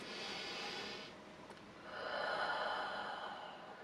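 Two slow, deep breaths for a breathing exercise, an inhale then a longer exhale, close and fairly faint with no talking.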